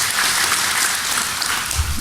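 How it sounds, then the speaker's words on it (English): Short burst of dense audience applause at the DEF CON 21 hacking conference, loud and continuous clapping for two seconds. "A round of applause for yourselves."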